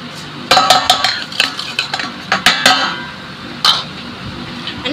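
Potato cake batter being mixed with butter in a bowl: a spoon knocks and scrapes against the bowl in quick irregular clinks, close and clear, with no talk.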